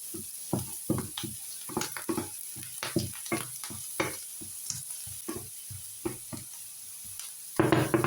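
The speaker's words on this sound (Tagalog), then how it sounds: "So, gisa-gisa lang." Vegetables sautéing in a pan for an omelette: a spatula stirs and scrapes in quick irregular strokes over a soft continuous sizzle, close and fairly loud, with a sharper burst near the end.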